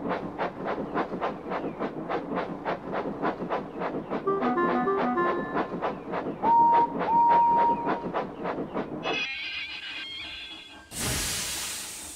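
A steam train chuffs rhythmically along the rails, joined by whistle tones and metallic squeals, then a burst of steam hisses loudly at the end.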